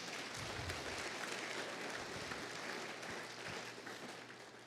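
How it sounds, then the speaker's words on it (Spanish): A church congregation claps for the Lord during a service, a faint, sustained patter of many hands that holds steady and then eases slightly toward the end. "Denle un aplauso al Señor"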